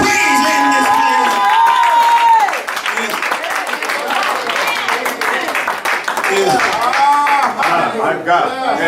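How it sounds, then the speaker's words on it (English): Church congregation at a Sunday service clapping in praise, a lively crowd of hand claps and cheers mixed with loud voices and exclamations throughout. "Somebody give God a hand clap of praise in this place."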